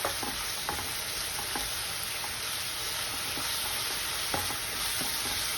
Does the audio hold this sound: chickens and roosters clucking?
no